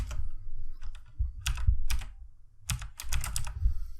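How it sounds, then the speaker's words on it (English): Typing on a computer keyboard, with short bursts of close key clicks separated by brief pauses, crisp and fairly loud with no talk. "I'm going to type in tutorial."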